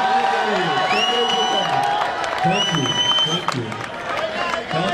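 A crowd at a cricket final cheers and claps, with shouts and whoops rising over a dense, continuous roar. A loud voice also speaks over the noise.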